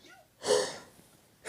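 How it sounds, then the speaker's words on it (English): A single sharp, explosive sneeze bursts out close and loud at the very end, preceded by a softer breathy rush of air and near silence. "Random sneezes."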